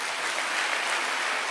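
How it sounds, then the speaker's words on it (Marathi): Crowd at a women's rally-style public event claps for a named organizer, a continuous, even patter of many hands heard a little distant and moderately loud, with no speech over it. "जरा टाळ्या वाजवा."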